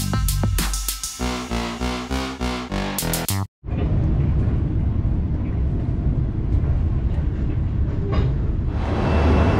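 Loud, rumbling train noise inside a station or carriage on arrival at Bangkok railway station from Chiang Mai, a steady roar after a brief burst of rhythmic music, with no talk.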